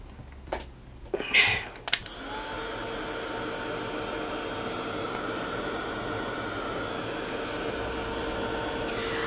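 A hair dryer starts up after a few short clunks and handling sounds, then blows a steady, loud whoosh to dry a freshly washed mixed media art page.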